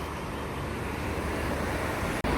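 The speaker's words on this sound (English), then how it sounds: "Okay, train replacement bus going." Steady broad road noise of a train replacement bus pulling away from a stop at Holmsglen TAFE, a continuous engine and traffic rumble at even loudness with a brief dropout near the end.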